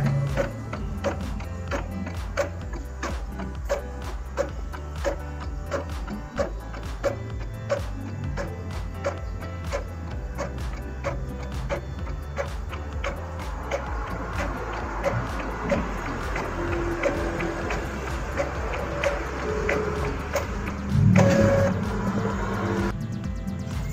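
A label printer feeds and prints on chromo sticker paper, giving a steady mechanical whirr with rapid ticking and ratcheting that runs the whole time, with a louder clunk near the end.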